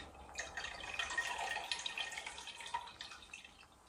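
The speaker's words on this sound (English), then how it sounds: "And just slowly let the whey drain out." Whey drains from homemade cheese curds gathered in a cloth, making a steady, close patter of drips and trickling liquid that runs for several seconds with no talking.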